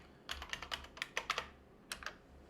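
Typing on a computer keyboard with quick, irregular clusters of close, crisp key clicks and short pauses between bursts, heard alone in a quiet room.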